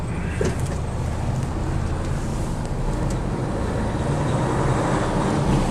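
Steady road traffic on a Welsh street at dinner time, a continuous broad wash of vehicle noise with no distinct pass-bys and no voices.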